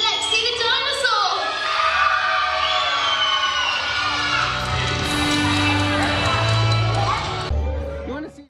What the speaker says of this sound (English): Give me a big cheer!